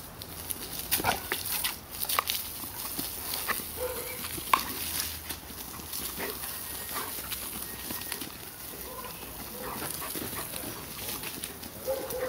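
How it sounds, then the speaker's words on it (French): A wet dog shakes itself off after a bath indoors, giving a faint rustling, flapping spray of water and fur over a low, steady background, with no voices. "À la fin, le chien va s'ébrouer."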